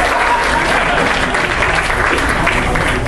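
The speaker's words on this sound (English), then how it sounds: "Let's give another big round of applause for not only being awesome," Loud, dense applause from a convention crowd cheering costume contest entrants at ALL-CON 2011, steady and unbroken throughout with no pause.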